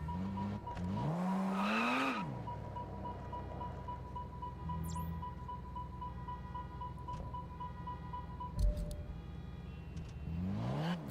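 Volkswagen Beetle driving in Test Drive Unlimited Solar Crown around Hong Kong, an engine droning steadily with a rev swell at the start and another near the end, a faint tire squeal and a brief thump, no talk.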